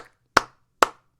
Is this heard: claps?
yes